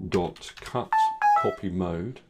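A phone notification tone sounds briefly in the middle, a couple of clear ringing beeps over ongoing talk in an indoor setting.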